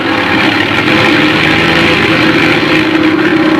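A starboard aircraft propeller engine in a 1958 emergency, running away and overspeeding, drones as a loud, steady, dense roar that fills the whole clip without a break and with no speech over it.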